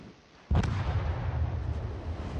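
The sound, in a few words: battleship guns firing shells, from a naval video game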